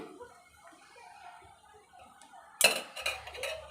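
Egg fried rice is stirred in a pan with a metal utensil, starting with a faint sizzle and then sharp scraping clinks and clatter up close at the end.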